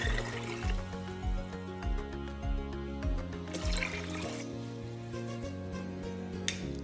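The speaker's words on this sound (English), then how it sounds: "Add 10 cups of water" Water pours steadily into an Instant Pot, a continuous splashing stream running for several seconds over a humming background.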